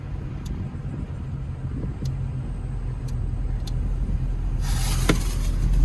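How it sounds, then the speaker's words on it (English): A VW Golf MK4 GTI engine idling after an O2 sensor replacement, a steady low rumble that grows slightly louder toward the end, with faint ticks and a burst of hiss near the close. "Guys, we're lighting the motor right now."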